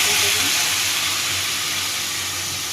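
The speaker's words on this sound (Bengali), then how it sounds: "সামান্য একটু জল দিলাম আর একটু কষবো, জল দিয়ে দিয়েছি" Water splashed into a hot pan of fish curry sets off a loud, steady hiss and sizzle that fades gradually over a few seconds.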